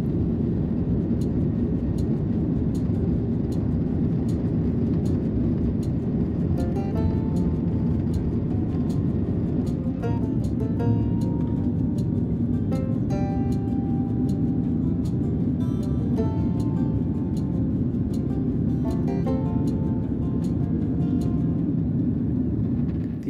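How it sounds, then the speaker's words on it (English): Steady loud roar of a Qantas Airbus A330-200 taking off on a Melbourne to Singapore flight, heard from inside the economy cabin, with a constant broadband engine and airflow rumble and faint rhythmic ticks throughout. "After a bit of taxiing, we took off for our 8-hour journey from Melbourne to Singapore."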